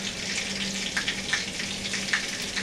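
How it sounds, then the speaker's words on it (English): Flour is stirred gradually into melted butter in a pan to make a roux, giving a steady gentle sizzle with soft scraping and small pops, close and continuous. "You start adding your flour nice and slow to incorporate it into the butter"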